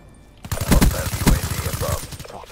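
A gold Kuda submachine gun firing in a video game, loud, rapid automatic bursts of closely spaced shots that rattle on for about two seconds after a quiet start.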